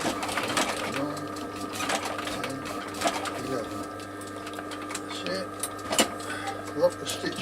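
Sewing machine stitching a leather knife sheath, running in short repeated bursts with brief pauses, moderately close, while a person talks over it.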